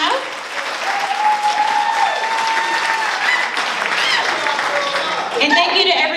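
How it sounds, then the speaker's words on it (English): Wedding guests applaud the venue staff during the reception speeches, a steady, dense burst of clapping close by with cheering and voices mixed in throughout. "Let's give them a round of applause for a job well done"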